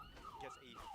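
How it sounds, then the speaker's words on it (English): Emergency vehicle sirens wail faintly from outside, a rising and falling electronic tone sweeping up and down behind a quiet room. "Sorry about the sirens, by the way."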